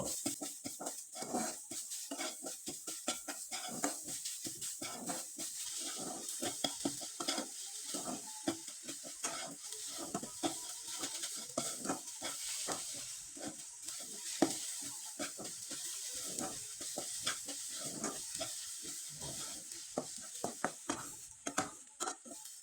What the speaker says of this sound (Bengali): খুব ভালোভাবে নেড়ে চেড়ে একবারে শুকনো শুকনো করে পুরটা তৈরি করে নেব